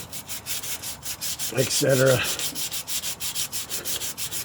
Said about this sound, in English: Now I'm using about 100 grit sandpaper.